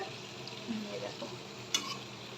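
Olive pieces for pickle cooking in oil, a soft low sizzle with a few faint stirring scrapes and one sharp metallic tap near the end.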